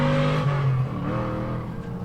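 A Crown Customs 1970 C10 truck accelerating hard in first gear at an autocross event at Pittsburgh International Raceway, its engine a loud, sustained, strained drone held steady throughout with no voices.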